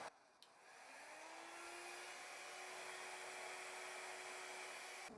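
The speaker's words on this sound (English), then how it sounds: "if I moved really fast or I got really close with my mini hairdryer" A mini hair dryer switches on and blows steadily on spray paint, a high airy whir with a thin motor tone, close by and constant.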